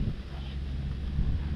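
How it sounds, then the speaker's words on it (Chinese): Wind gusts batter the microphone outdoors during a cycling trip through Gansu, China, a steady low rumbling roar that swells slightly near the end, with no voices. "这回又起风了"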